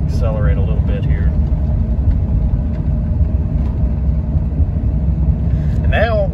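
A 1997 Dodge Ram 2500 with a V10 engine and freshly rebuilt transmission drones steadily from inside the cab, a loud continuous low rumble held throughout, with brief voice-like sounds near the start and end.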